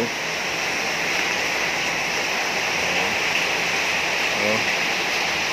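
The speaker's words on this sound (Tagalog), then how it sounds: "dito bumabaha na" Floodwater rushing during Typhoon Carina, a loud, continuous roar of flowing water that stays steady throughout with no pauses or voices.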